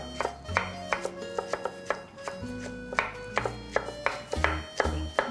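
A knife finely julienning cucumber on a cutting board, quick, crisp taps in bursts, each burst a run of rapid strokes with short pauses between, close and clear.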